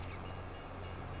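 A train rumbles steadily past a level crossing in the farming video game Farming Simulator 22 on the Haut-Beyleron map, a continuous low drone with faint rhythmic clatter and no voices.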